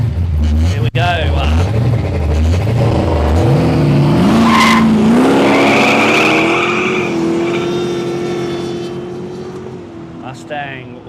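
A Mustang drag car with a brand-new 408 cubic inch stroker engine races down a no-prep airstrip drag strip, its loud engine rising steadily in pitch through the gears as it passes close by and then fades.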